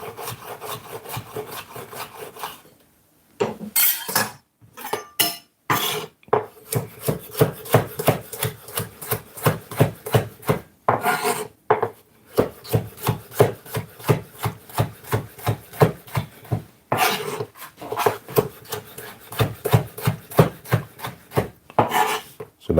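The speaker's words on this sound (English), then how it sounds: "All right, and I want these julienne." A knife cuts vegetables into julienne strips on a wooden board, a fast steady run of sharp close knocks with a few brief pauses, heard alone.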